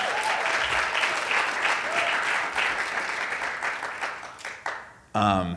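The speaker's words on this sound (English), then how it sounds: "Please give them a big round of applause" Loud, dense applause from an audience at a civic gathering in Baltimore, sustained for about five seconds and thinning near the end, with a brief burst of voice or cheering at the close.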